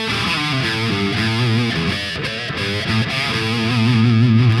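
Electric guitar through a BluGuitar amp with gain set around 8, playing a vintage classic rock tone: driven, distorted chords and melodic phrases ringing out loud and steady, alone without talk.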